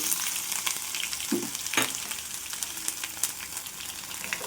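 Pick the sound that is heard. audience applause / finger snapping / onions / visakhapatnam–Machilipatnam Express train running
onions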